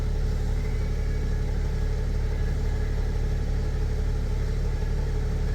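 A BMW X5 engine runs steadily at idle after an injector repair on cylinder 6, a constant close, even drone with no change in pace and no talking.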